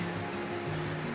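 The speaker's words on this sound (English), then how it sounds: "We've had a lot of rain and recent snow melt, so there's a lot of water flowing." Rushing water from heavy rain and snowmelt runs near the approach to Donaldson Cave on a hiking trail, a steady, full broadband roar holding even and close for the whole moment, with no voices.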